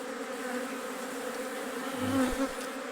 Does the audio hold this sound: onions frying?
no